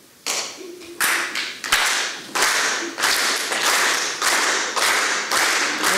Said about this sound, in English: could we clap together in unison, in synchronous, rhythmic manner?